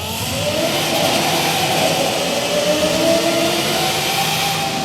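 A Lexus LFA in Forza Horizon 5 revs loudly and continuously, its engine note rising and sweeping across the rev range with a smooth, high-pitched wail and no talk over it.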